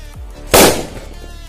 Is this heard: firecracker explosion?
yes